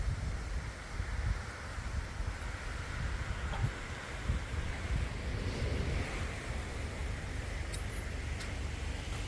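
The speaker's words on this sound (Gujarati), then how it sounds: "પવનનો અવાજ બહુ આવે" Strong storm wind rushes steadily across an open farm orchard, a continuous deep roar with gusty buffeting against the microphone and no voices.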